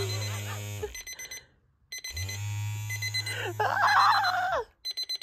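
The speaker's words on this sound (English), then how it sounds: "when my alarm is ringing, this physically shakes" A vibrating bedside alarm clock rings loudly and close by with shifting electronic melodic tones and warbling beeps, broken by a brief gap and then restarting in short bursts, with no speech.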